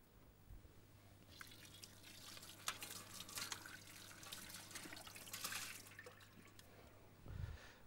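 Tap water runs steadily into a sink while peeled potatoes are rinsed, a close, continuous splashing trickle with a low hum beneath and a bump near the end.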